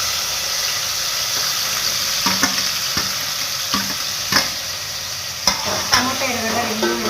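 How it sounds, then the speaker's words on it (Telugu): Chopped tomato and onion frying for Andhra-style coriander dal, giving a loud continuous sizzle with a few sharp spatula taps and scrapes against the pan. "టమోటా, ఎర్రగడ్డ 2 వేసుకుని అది కొంచెం లైట్గా వేగించుకున్నాక"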